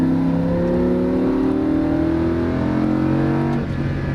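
A Lamborghini Huracan accelerates hard on a race track, the loud engine note climbing steadily in pitch for about three and a half seconds before easing off.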